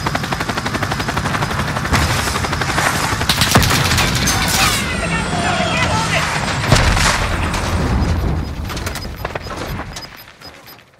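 Loud, sustained gunfire rattles in dense bursts and crackling volleys for several seconds over a heavy droning roar, then fades toward the end.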